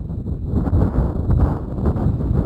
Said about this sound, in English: Wind's blowing left to right as well,